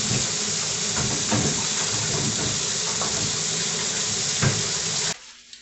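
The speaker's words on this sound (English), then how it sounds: "Let me rinse my hands once again." Water gushes steadily from a kitchen tap as hands are rinsed at the sink during cake baking at home. It is a close, continuous rushing hiss that cuts off sharply near the end, with no talking.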